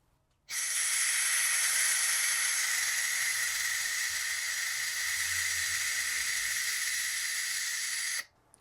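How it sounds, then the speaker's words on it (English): Compressed air hisses loudly and steadily during final repairs on a salvaged BMW F30, starting abruptly, holding an even, close rush for about eight seconds, then cutting off sharply. "we're going to turn on the compressed air until we reach about -25"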